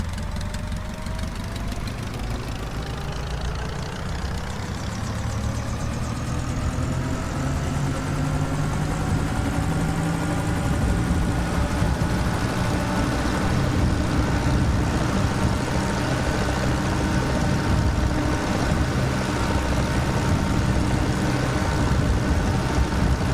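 A helicopter engine in a desktop flight simulator held at 75% RPM, a steady loud droning hum with rising whine tones, continuous throughout and slowly building slightly.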